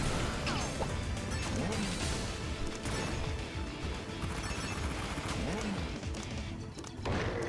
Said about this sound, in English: I can't hear you over all the explosions